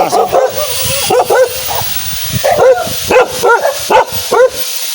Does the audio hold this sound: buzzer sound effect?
no